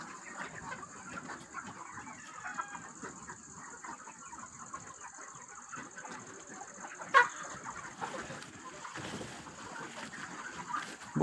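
Chickens cluck and rooster-like calls rise from a poultry farm at Jugimunda, a steady busy flock chatter with a few louder squawks, heard alone without talk.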